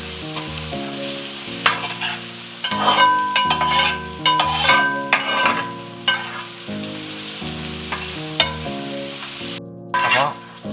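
Onions sautéing in a pan for a Thrissur-style chicken curry with tapioca, a steady close sizzle with repeated stirring scrapes and a rhythmic pulsing tone running under it.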